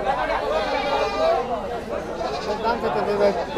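Goats at a livestock market in Mirzapur, Tangail bleat repeatedly amid a steady crowd murmur, with people chattering nearby throughout.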